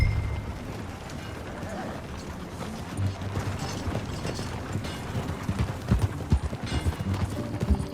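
Horse hooves clip-clopping in Red Dead Redemption, a steady trotting rhythm under ambient game noise and mechanical rattles, fairly loud and close.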